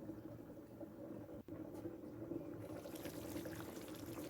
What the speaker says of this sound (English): cover it and let it simmer